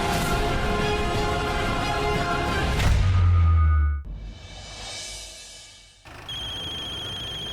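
A phone rings with an incoming call in a TV drama scene, a loud electronic ringtone over background music, cutting off and resuming briefly near the end.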